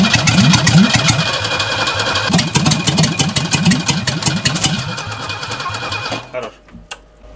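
A 1972 Mercedes W116 that sat twenty years in a garage cranks and catches, running loud and rough with a rhythmic chugging pulse for about six seconds before cutting out and dying away.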